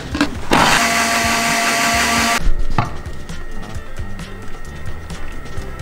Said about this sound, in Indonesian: Nah ini banyakan aja, kita langsung blender